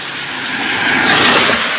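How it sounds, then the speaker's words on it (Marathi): A car rushes past on a road close by, a loud whooshing engine and tire noise that swells and peaks mid-pass with no speech over it. "गाडी आहे."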